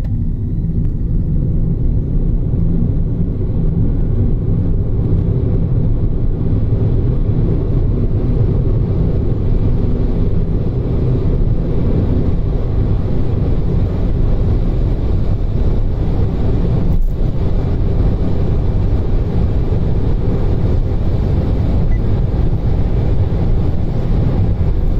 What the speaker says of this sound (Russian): проверим разгон в пол